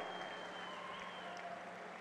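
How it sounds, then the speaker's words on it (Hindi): An audience at an outdoor political public meeting in Nizamabad, Telangana, claps in thanks for the Turmeric Board, a steady, faint wash of applause from a distance. "जोर से ताली बजाकर धन्यवाद करिए हल्दी बोर्ड के लिए"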